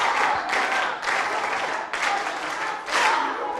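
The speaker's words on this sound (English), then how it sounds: "give us a nice Evet, hosting bildiğiniz gibi applause" A crowd at the WSC 2017 opening ceremony applauds in loud, continuous waves of dense clapping that swell and ease several times, with faint voices mixed into the clapping.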